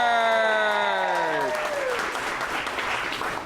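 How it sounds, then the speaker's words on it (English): Audience applause for local actress Kate Urquhart at an improv theatre show, a steady burst of clapping that rises as a voice finishes an introduction and then carries on alone. "a round of applause for Kate Urquhart"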